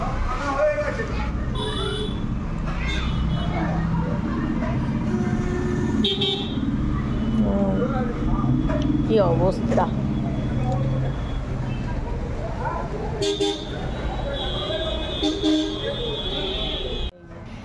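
Busy road traffic with vehicle horns honking now and then, engines rumbling steadily, and a person speaking briefly over the noise.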